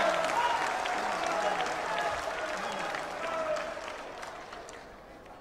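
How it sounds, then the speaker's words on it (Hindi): A political rally crowd breaks into sustained applause, a dense, steady wash of many hands clapping that slowly fades toward the end, followed by a sudden sharp thump. "जो लोग इससे सहमत है वो तालियों की गड़गड़ाहट से"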